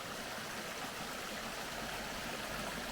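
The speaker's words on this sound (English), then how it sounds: "but we got this nice little creek coming," A small creek spills over a little waterfall beside a riverside campsite, a steady, full rushing and gurgling that fills the air without a break.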